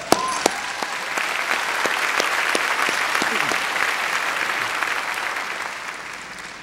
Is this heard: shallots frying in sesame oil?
no